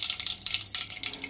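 Two bay leaves sizzling in hot oil with mustard seeds and cumin for a spicy dry mutton dish, a steady close crackle and spit that surges in repeated waves with no voices.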